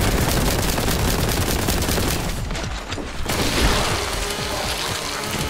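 Rapid, loud sustained weapon fire in Warhammer 40K: Boltgun, a dense roaring barrage with crackling bursts that briefly drops out before surging back, including plasma gun shots.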